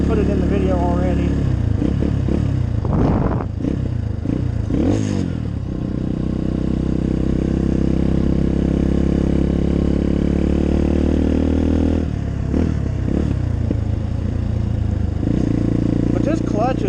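A 2018 Apollo 250RX motorcycle engine revs and clatters up close, with rising and falling throttle sweeps, a steady run in the middle and another rev near the end, under someone talking.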